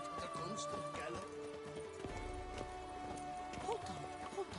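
Horse hooves clip-clop at a steady gallop in The Witcher 3 video game, continuous and fairly close, with game music and a voice talking over them.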